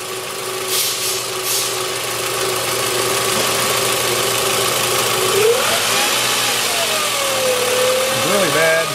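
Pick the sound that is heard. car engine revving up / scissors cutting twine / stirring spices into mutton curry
car engine revving up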